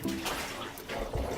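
Tap water pours steadily into a bathtub being filled for hand-washing laundry, a close, continuous rushing splash.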